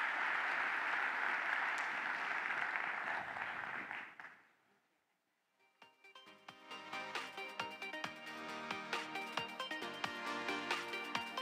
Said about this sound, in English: Ladies and gentlemen, round of applause for my fantastic panelists